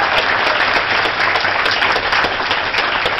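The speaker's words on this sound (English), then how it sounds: "And let's give the auditor, Suzanne Bump, a round of applause again." Audience at a memorial breakfast event clapping, a dense, steady burst of applause from many hands, loud and close, with no speech over it.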